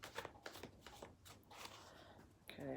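Tarot cards shuffled by hand, several rapid riffling bursts with short pauses between them, close and fairly quiet, ending in a brief flutter.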